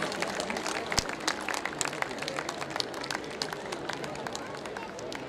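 An audience at a school annual day and prize distribution ceremony applauds steadily, with dense, even clapping from a large crowd continuing throughout at a moderate distance.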